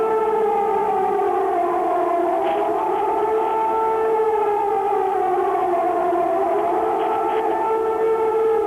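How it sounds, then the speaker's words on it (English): An air raid attack warning siren wails over Baghdad during the 1991 Gulf War bombing, a loud, continuous tone rising and falling slowly in long sweeps, with no talk. "This is the attack warning."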